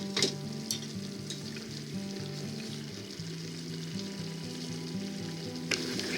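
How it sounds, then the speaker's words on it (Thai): Japanese nimono of vegetables and chicken simmering with soy sauce in a pot, a quiet, continuous bubbling and sizzle with a few soft stirring clinks and no talk. "ก็ต่อไปเราก็จะใส่ โชยุลงไปค่ะ ลาดไปทั่ว ต้มต่อไปอีกสักประมาณ1นาที"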